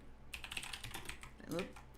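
Rapid clattering keystrokes on a computer keyboard with a faulty K key, close and fairly quiet, a quick burst of taps ending in a louder knock.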